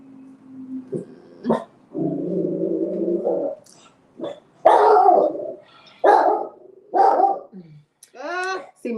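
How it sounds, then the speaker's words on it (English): A dog acting up barks and whimpers indoors in several bursts, some long whining tones and sharp yips, close and loud, alternating with people talking. "See my dog acting up."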